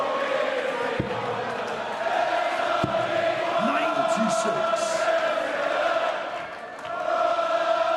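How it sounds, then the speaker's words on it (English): A darts crowd in Blackpool roars steadily for Phil Taylor during a Champions League final, a dense sustained wall of cheering and chanting with a few sharp thuds, briefly dipping before swelling again. "Crowd getting behind Phil Taylor"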